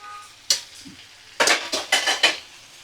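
Chopped bottle gourd pieces go into a pan of fried spices for a gourd and shrimp dish, with a clatter followed by several loud stirring scrapes and clinks of a utensil against the pan, close up.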